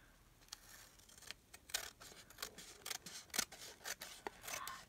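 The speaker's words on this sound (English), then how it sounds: "So I'm just trimming these edges out." Scissors trimming paper edges for a junk journal: a series of close, crisp snips in an irregular rhythm, quiet with no talking.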